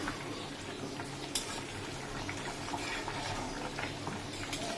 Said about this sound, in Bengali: এই যে চাপা দিয়ে রেখেছিলাম, গরম জল দিয়েছিলাম তো তাড়াতাড়ি ফুটে গেছে